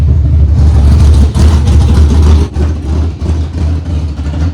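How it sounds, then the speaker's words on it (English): A loud, rough Chevy car engine idles close up, a deep uneven rumble that dips briefly a couple of times. "it's running and idling, and I'll say this thing sounds rowdy"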